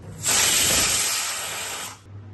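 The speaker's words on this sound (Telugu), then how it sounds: "కుక్కర్ మూడు విజిల్స్ వచ్చిందండి ప్రెషర్ అంతా పోయింది" A pressure cooker releases its steam in one loud, sustained hiss lasting about two seconds before cutting off sharply.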